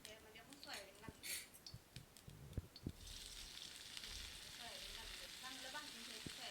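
Soybeans dropped into hot oil in a pan, starting with some clatter and stirring, then a sudden loud, steady sizzle of frying that continues close by.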